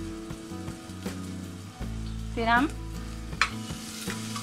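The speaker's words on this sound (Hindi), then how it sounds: "प्याज को गोल्डन ब्राउन होने तक भूनते हैं" Onions frying in oil in a pan for dhaba-style chana dal tadka give a soft, steady sizzle with a few stirring clatters, while someone talks briefly over it.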